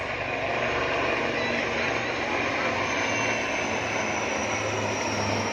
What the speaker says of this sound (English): Light combat helicopter is a multi-role attack helicopter equipped with the advanced avionics.